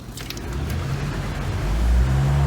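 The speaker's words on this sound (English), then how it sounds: "Right away you can hear the cars." Steady road traffic from cars driving past outdoors, a continuous low rumble that swells slightly louder toward the end, with no talking.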